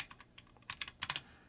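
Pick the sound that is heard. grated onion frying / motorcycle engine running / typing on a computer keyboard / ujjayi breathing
typing on a computer keyboard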